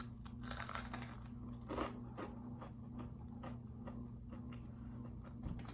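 Close, crisp bites and crunchy chewing on the fried breading of a Korean cheesy corndog, a quiet series of irregular crackles over a low background hum.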